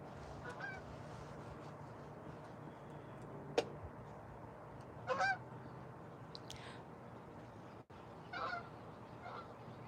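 A goose flying overhead outdoors at dusk gives a few distant honks spaced across the stretch, faint over a quiet background with a sharp click partway through.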